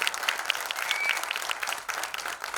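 Enthusiastic audience applause at a film cast event, dense and steady clapping from a crowd, fairly loud and continuous, dipping briefly near the end before picking back up.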